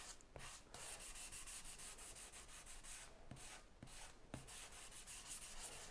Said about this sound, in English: I keep sanding until that stuff goes away.